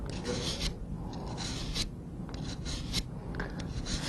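Rasping strokes of a pruner blade being sharpened on a DMT diamond stone, a series of about six to eight short scraping passes in an even rhythm, close and fairly quiet, no talking.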